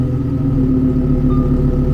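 A Lamborghini Huracan EVO engine runs steadily after starting up, a loud, close, deep rumbling idle with a strong low throb, no voices.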